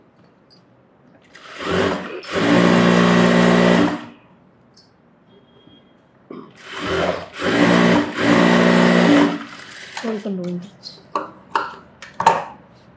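A sewing machine runs in two or three sustained bursts, loud and close, stitching a blouse lining, with quieter handling clicks and taps between runs.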